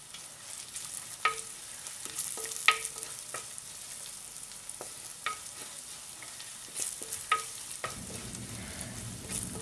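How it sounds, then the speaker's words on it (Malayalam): Onions and turmeric powder sauté in a pan for sardine curry, with soft sizzling and scattered clinks and scrapes of stirring, quiet and close. "മഞ്ഞൾപ്പൊടിയുടെ പച്ചമണമൊക്കെ മാറുന്ന വരെ ചെറുതായിട്ടൊന്ന് വഴറ്റാം."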